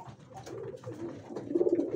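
Pigeons coo softly inside a loft, low throaty calls rising and falling over a quiet background.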